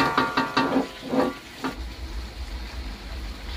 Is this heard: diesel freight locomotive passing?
no